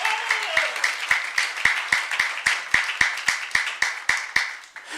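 A church congregation claps in a steady, rhythmic unison beat, about four claps per second, loud and fairly close, with a faint murmur of voices underneath.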